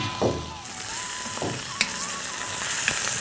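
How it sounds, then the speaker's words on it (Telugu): Mutton frying in oil with onions and dried chillies gives a steady, close sizzle and crackle, with a few louder stirring scrapes and pops rising over it throughout. "ఇప్పుడు మటన్ వేసేద్దాం. ఈ మటన్ బాగా నూనెలో వేపాలి రా,"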